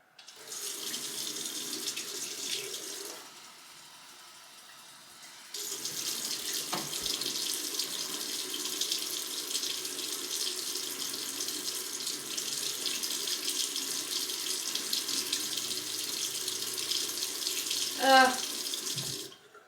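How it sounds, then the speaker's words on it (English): Cold tap water running steadily into a jug, briefly quieter then gushing again, with a clink near the end. "Add cold water to make up 1 pint, which is 570 millilitres."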